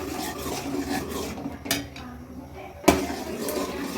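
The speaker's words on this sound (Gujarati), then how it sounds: "હવે આપણે કાજુ, બદામ અને મખાનાનો જે ભૂકો કર્યો હતો એ આપણે નાખશું દૂધની અંદર, સારી રીતે મિક્સ કરી દઈશું" A utensil stirs ground cashew, almond and makhana into milk in a pot, giving soft continuous scraping and swirling with two sharper metallic clinks against the rim near the middle and end.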